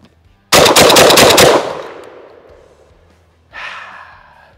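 A Benelli M4 Tactical auto-loading shotgun fires a rapid string of about six loud, close shots in roughly one second, the blasts rolling off into a long decaying echo before a fainter burst of sound returns near the end.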